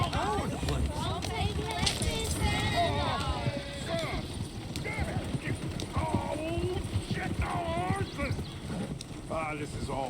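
Horse hooves galloping in the video game Red Dead Redemption 2, a fast steady clip-clop rhythm close by, with an occasional whinny and other game sounds mixed in.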